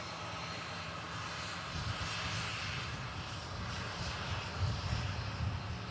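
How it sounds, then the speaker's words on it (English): A TAP Air Portugal Embraer E190 jet arriving into Manchester Airport gives a distant, steady engine roar that swells slightly partway through, with no voices. "Next in, TAP Air Portugal E190, long range, in from Lisbon."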